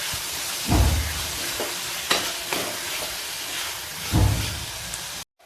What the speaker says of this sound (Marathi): आता हा टोमॅटो कांद्यासोबत चांगला परतून घेते